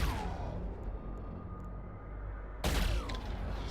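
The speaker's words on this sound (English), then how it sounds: "Gatling gun, railgun." Gatling gun and railgun fire in the video game Death Stranding: a dense, roaring burst of rapid gunfire that eases into a sustained rumble, then a second loud blast erupts near the end.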